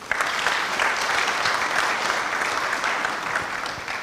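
An audience at a tea convention panel in Pakistan applauds, with dense, steady clapping from a sizeable crowd that continues evenly throughout.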